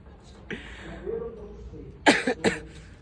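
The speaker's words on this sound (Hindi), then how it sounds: "खांसी हो गया" A person coughs a few times in quick succession, close and fairly loud, after some quiet murmuring.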